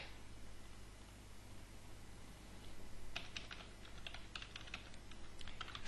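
Keystrokes on a computer keyboard, quiet at first and then a fast run of close, light clicks in uneven bursts over soft background hiss.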